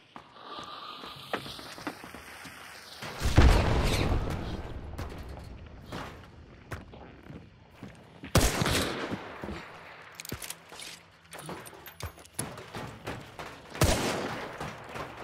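Shotgun blasts in a video game fire in a few loud, separate bursts spread across the stretch, each with a booming crack and a short tail. Quieter game noise sits between them.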